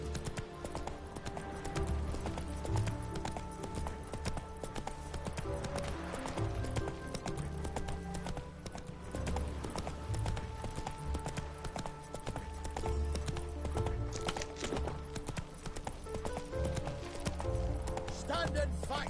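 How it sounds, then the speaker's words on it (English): Horse hooves galloping steadily in The Witcher 3 video game, a continuous clip-clop rhythm over game ambience and music. "Run, Roach."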